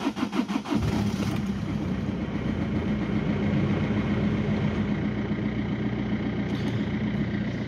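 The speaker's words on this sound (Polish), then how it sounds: "Także teraz sobie uruchomimy ten silniczek." A car engine cranks briefly, catches, then settles into a steady, loud idle with a low rumbling drone.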